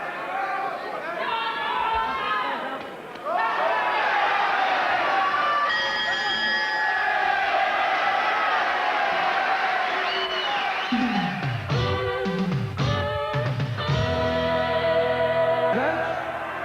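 Boxing crowd between rounds, a dense hum of chatter and cheering with chant-like swells, with a commentator talking over it and a bell-like ring near the end.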